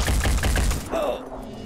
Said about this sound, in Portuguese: Eu vou atirar, mano.